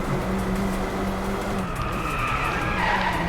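A car's tires skid and squeal through a handbrake turn after a chicane, a loud sustained screech with a rising, wavering pitch over steady engine noise, close and continuous.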